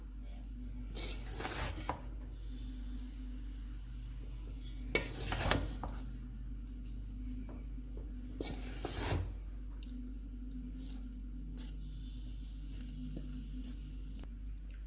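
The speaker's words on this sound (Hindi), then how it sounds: "और इस तरह से साइडों से इसको इस तरह से मिक्स करेंगे।" Beef biryani stirred in a pot after the dum is opened, with a few distinct scraping sweeps of a spoon against the sides over a faint low hum and soft sizzle.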